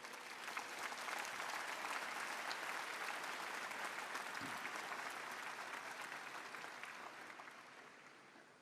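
Pilgrims in the Paul VI audience hall at the Vatican applaud during the papal general audience, a broad, sustained roar of many clapping hands that stays steady and slowly fades toward the end.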